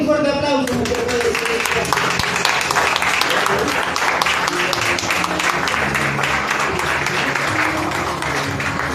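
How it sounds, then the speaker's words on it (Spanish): A church congregation breaks into steady, loud applause with many hands clapping at once, sustained throughout, with cheers and voices mingling in the crowd noise. "Dale un fuerte aplauso."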